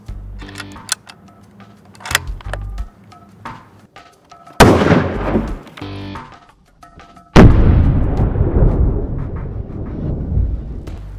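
A rifle firing a 180-grain green-tip Nosler ballistic tip bullet: a sharp, loud gunshot boom with a long rolling echo, preceded by smaller clicks and knocks of handling, with an earlier loud report midway.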